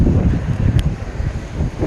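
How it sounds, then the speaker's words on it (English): Wind blows steadily across a lakeside trail near Lake Tahoe, buffeting the microphone with a loud, continuous low rumble that swells and eases, with no speech. "Ooh, it's windy."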